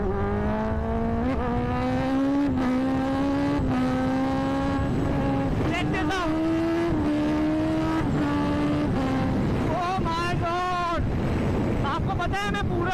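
Superbike engine revving hard in road mode, loud close engine roar with repeated rising and falling rev sweeps throughout, no talk over it.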